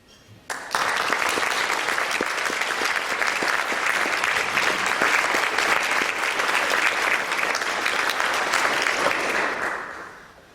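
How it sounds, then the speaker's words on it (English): Sustained applause from the audience at an evening debate for the panelists, a dense, steady wash of many hands clapping that begins abruptly, holds evenly for about nine seconds, then fades out, with no talking over it. "Please welcome all of our panelists for tonight's debate, and if we can have one more round of applause for them."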